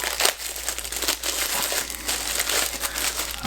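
Plastic wrappers around baseballs crinkle and crackle close up as they are opened, a continuous irregular rustling with sharper crunches throughout.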